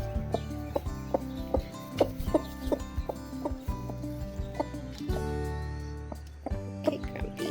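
Hens in a chicken coop cluck and complain in a run of short, repeated calls, close and fairly loud, with some longer drawn-out notes between them.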